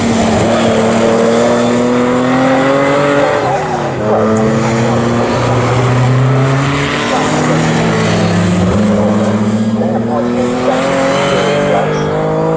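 Pre-1963 sports racing cars roar around the Snetterton circuit in a race, one sliding sideways out of a corner. Loud, continuous engine drone rises and falls in pitch through gear changes as cars pass close.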